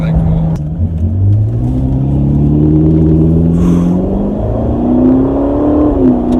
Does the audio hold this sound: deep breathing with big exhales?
no